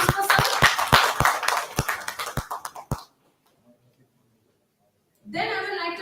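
Audience applause at an engineering conference, IEMECON 2025 in Jaipur, with sharp individual claps over a bed of clapping for about three seconds. It stops into near silence, then a voice begins speaking.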